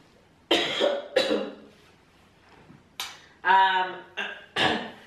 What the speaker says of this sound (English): I'm having a little cough, a little dry cough